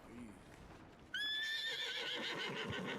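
After a soft rustle, a horse in the video game Red Dead Redemption 2 lets out a loud, high whinny that trails off into snorting and shuffling nearby.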